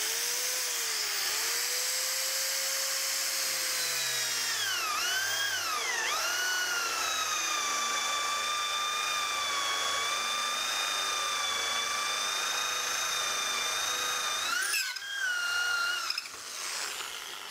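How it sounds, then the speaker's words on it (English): A drill bores holes in wood for a lathe-turned three-legged stool. The motor whines steadily with pitch dips as the bit bites in, close and loud, with a pause and restart near the end. "I'm just going to drill another two holes."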